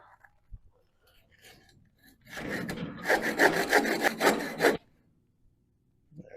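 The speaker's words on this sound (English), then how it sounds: "So I need to cut that little more. And I just use a handsaw for that." A handsaw cuts through a wooden board for a chicken coop build: a couple of seconds of quick, rasping back-and-forth strokes, close and fairly loud, with a few faint knocks before and after.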